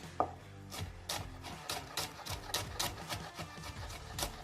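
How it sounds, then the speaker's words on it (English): A knife chops garlic on a wooden board, sharp close taps in an uneven quick rhythm, about a dozen distinct strikes with no talking. "I'm gonna cut the garlic these ways and then these ways, so we have diced garlic"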